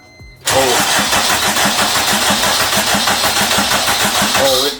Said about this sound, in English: Oh, it wants to start.